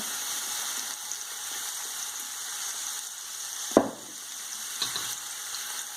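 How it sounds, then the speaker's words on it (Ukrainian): Onions fry in oil in a pan with a steady close sizzle and crackle, one sharper clack partway through and a smaller one after, no voices. "цибульку і обсмажуємо до тих пір, поки цибулька не стане накенькою"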